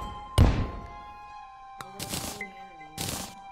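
A bomb going off in the video game Terraria, one sharp close thud followed by ringing game tones and two later bursts of bright noisy crackle, with no talking.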